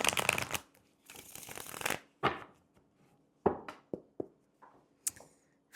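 Tarot cards shuffled by hand in a series of rapid riffling bursts, then several sharp separate slaps and flicks as the deck is handled, close and fairly loud with no talking.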